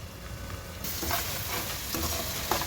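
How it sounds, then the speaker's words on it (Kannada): Onions cook in a pan under a plate used as a lid, giving a muffled, even sizzle that swells into a broader hiss partway through, with a faint clink near the end. "ಈ ಥರ ಮೇಲೆ ಈ ಥರ ತಟ್ಟೆ ಮುಚ್ಚಿದರೆ ಈರುಳ್ಳಿ ಬೇಗನೆ ಬೇಯುತ್ತೆ"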